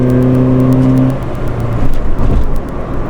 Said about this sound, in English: And when she does, this car does scream.